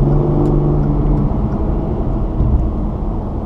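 A 2016 Hyundai Genesis Coupe Ultimate with a limited slip differential accelerating onto a highway, a steady loud engine drone and road roar heard from inside the cabin, with no talking.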